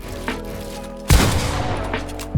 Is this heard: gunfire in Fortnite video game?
yes